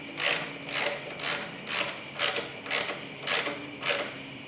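Rapid ratcheting clicks from a ratchet wrench tightening exhaust header bolts on a CRF 300L motorcycle, arriving in eight quick bursts at an even rhythm, close and fairly quiet.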